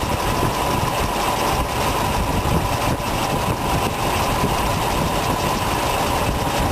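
A 1965 Ford Mustang GT V8 idles steadily with an Autolite 4100 four-barrel carburetor being adjusted, a continuous, close, even rumble with no talk over it.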